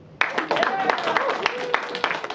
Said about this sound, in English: Can we get another round of applause for the Jewish Kim Jong-un?